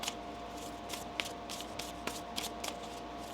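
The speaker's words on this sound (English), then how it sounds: "One more shuffle." Tarot cards are shuffled in a series of quick riffling bursts and soft taps, close up and fairly quiet, with no talking.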